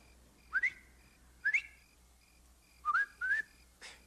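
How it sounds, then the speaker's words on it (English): A man whistles a short warning signal, four quick rising chirps spaced over a few seconds, faint against a quiet outdoor background. "If you see or hear anything wrong, whistle like this."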